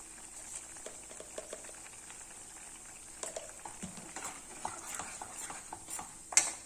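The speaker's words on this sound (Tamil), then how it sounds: "நல்லா வந்து குழம்பு கொதித்து அந்த சவுசவுலாம் நல்லா வெந்துருச்சு பாருங்கள்" Chayote kuzhambu simmering in a pot, with a quiet bubbling and faint scattered pops, a few louder stirring clatters later on, heard close with no talk.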